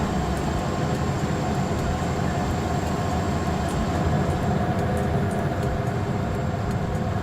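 A model train rolls along the track in the Rolling Line video game, a steady low rumble and clatter that continues evenly throughout with no voices.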